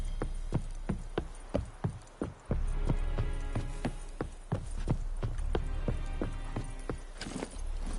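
Horse galloping across ground in the Witcher 3 video game, steady rapid hoofbeats clip-clopping over a continuous low rumble of game ambience, close and fairly loud with no talking.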